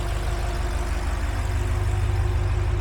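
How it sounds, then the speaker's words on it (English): A B58 engine idles smoothly, a steady low rumble with an even pulse heard up close and alone. "I could sit on this engine so you can see how smooth she idles."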